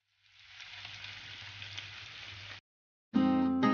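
Sliced onions frying in oil until crisp and golden, a close, steady crackling sizzle that stops abruptly, followed by a brief loud burst of a different sound.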